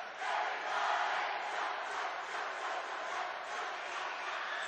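A high school basketball crowd at the Enterprise side of a Division III boys final chants steadily in a gym, a broad, continuous roar of voices with a rhythmic swell, heard from a distance.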